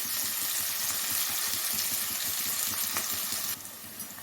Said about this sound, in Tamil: வெங்காயம் வந்து இந்த அளவுக்கு வதங்கிடுச்சு